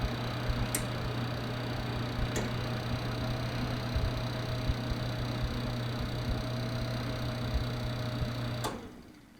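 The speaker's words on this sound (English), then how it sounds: "So I'm putting the phone right to the fan." An R.W. Flame 50-inch electric fireplace heater fan whirs steadily up close with a constant low hum and faint ticks, then winds down and fades at the end.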